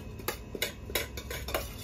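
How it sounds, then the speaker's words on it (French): A spoon scooping fried cauliflower from a dish, with five evenly spaced metallic clinks and scrapes of cutlery against the bowl, close and clear with no talking. "Je prends une cuillère de chou-fleur."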